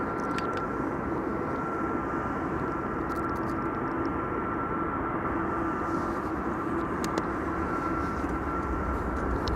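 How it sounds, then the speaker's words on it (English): A Finnair A321 and a KLM Boeing 777-200 on approach to Amsterdam Schiphol produce a steady, moderately distant jet engine drone with a faint whine, unbroken for the whole stretch. "2-airplane glide slope shot with Finnair flight 1301 on the right."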